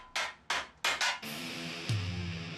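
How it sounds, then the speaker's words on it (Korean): A craftsman hammers a silver sheet into the shape of a silver kettle: four sharp, close, ringing metal strikes in quick succession, then a steady workshop noise with a low hum and no talking. "다양한 망치를 바꿔가며 은판을 두드려 조금씩 모양을 잡아갑니다."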